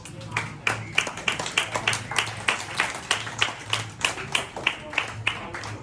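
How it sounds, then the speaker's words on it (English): A group of children claps in a steady, rhythmic beat, about three claps per second, loud and close throughout. "Claps."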